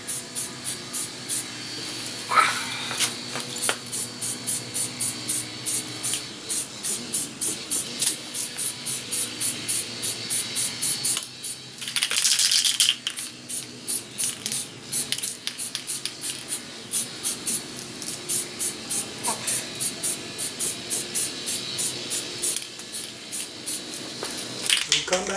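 Black spray paint hissing from an aerosol can onto an air mover, in many short, rhythmic bursts repeated steadily throughout, close and fairly loud, with one longer spray midway.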